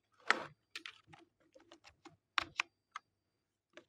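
Computer keyboard typed on while writing Python code in Google Colab, a quick burst of distinct close key clicks in an irregular rhythm, with a few isolated taps trailing off at the end.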